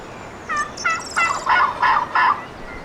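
A wild turkey in a turkey hunting video game gobbles in a fast run of about six rattling notes, fairly loud and near, over a steady outdoor hiss.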